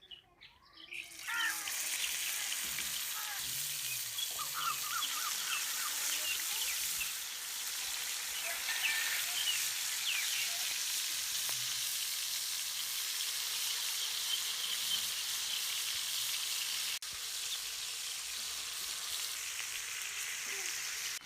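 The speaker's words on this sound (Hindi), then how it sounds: "अब हम फ़िश को फ्राई कर लेंगे।" Pieces of fish fry in hot cooking oil in a pan, a steady bright sizzle running for the whole stretch with small crackles and chirp-like pops, close and constant with no talking.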